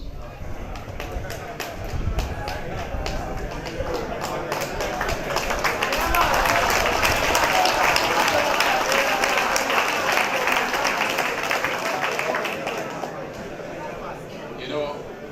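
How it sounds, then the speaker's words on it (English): Applause for a guest speaker, a former football association president, at a prison futsal launch, clapping rising from scattered to fuller, peaking midway and fading toward the end, with talking over parts of it. "Give him a round of applause"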